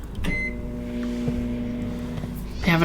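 A microwave oven hums steadily in a video game, and a short cluster of electronic beeps sounds at the end, with a faint tone and click earlier.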